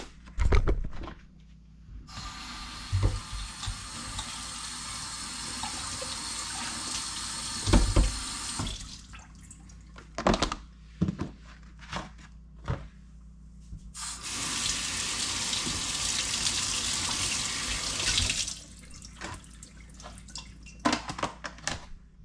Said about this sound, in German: Ich muss eben meine ganzen Sprossen waschen.